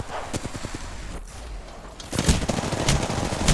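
Rapid bursts of gunfire in Apex Legends, dense clattering shots early, a short lull, then heavier louder volleys near the end, close and sharp.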